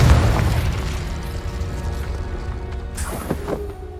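Confringo spell explosion in the Hogwarts Legacy video game: a loud booming blast that rolls into a sustained rumble, followed by smaller crackling bursts near the end.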